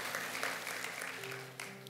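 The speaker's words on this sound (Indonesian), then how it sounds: "Berikan tepuk tangan buat Tuhan." A church congregation breaks into sustained applause, a dense wash of many hands clapping for two seconds, fairly loud and steady, with an organ or keyboard chord held underneath.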